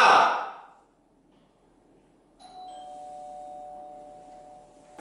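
A doorbell chimes alone in a quiet indoor room just after a short breathy sound, its clear electronic tone ringing and slowly fading over a low background hiss.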